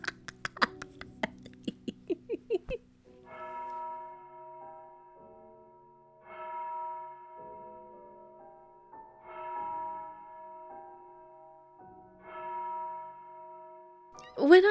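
A bell tolls four slow, evenly spaced strokes to sound the hour at 4 o'clock in the dark, each stroke ringing out softly and fading. The tolls follow a brief burst of quick tapping sounds.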